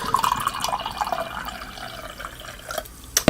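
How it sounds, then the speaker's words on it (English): Rockstar Energy Perfectberry drink is poured into a glass, a short close splashing and trickling of liquid with a few sharp clinks near the end. "let's pour it out, see what the color is"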